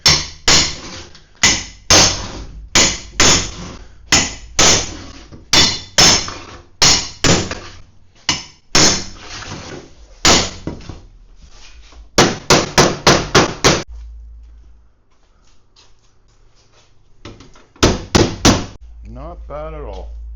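A heavy hammer strikes a steel H-beam on a powder coating oven build: a long series of loud, sharp, close metallic blows, sometimes in quick bursts, then a pause and a few more hits with a brief voice near the end.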